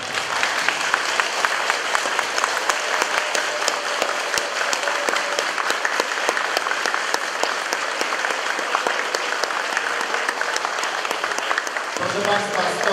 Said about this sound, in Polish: chciałbym teraz wszystkich prosić o powstanie i gorące z całego serca brawa dla pani dyrektor